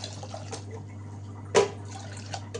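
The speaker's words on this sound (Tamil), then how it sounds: "இது முந்நூறு எம்எல் தண்ணி ஊற்றுறேன்" About 300 ml of water is poured into a pot while cooking idli sambar, heard as soft intermittent trickles and one brief louder splash over a low steady hum.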